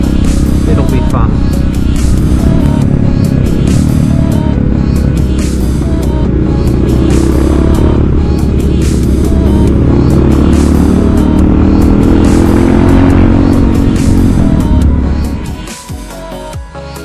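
A group of about twenty-three mixed motorcycles rides along a road, with a loud, continuous engine drone and rumble close by that fades near the end.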